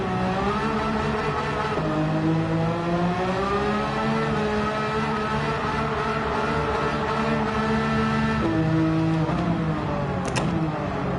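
An engine-swapped Citroen race car in the racing game Gran Turismo 7, engine droning loudly and steadily at high revs, pitch rising and falling through gear changes with a sharp shift near the end, heard alone without talk.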